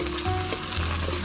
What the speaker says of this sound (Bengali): চিংড়ি মাছটাকে তেলের মধ্যে একটু ভেজে নেব।